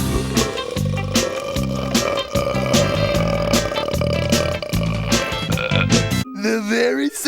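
A long, loud, gurgling cartoon burp with a deep croaking rumble that rolls on for several seconds, overlaid with clicks and effects, then a short voiced sound at the end.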